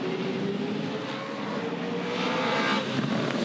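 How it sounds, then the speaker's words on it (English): A Supercars race car, the #888, crests the top of the hill at Bathurst, its engine a loud, steady roar that holds for the whole stretch without pause. "Off the top of the hill for the last time as a full-time supercar driver."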